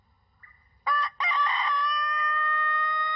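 A Totenko long-crowing rooster gives a single long, high crow, rising briefly then holding a pure, sustained tone, loud and close with a faint clucking lead-in.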